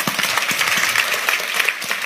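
An audience in a church sermon bursts into steady, dense applause, many hands clapping loudly together for a couple of seconds.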